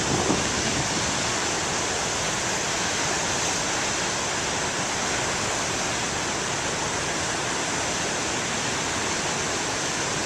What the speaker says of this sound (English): Boy, I don't think today's waves are too shabby.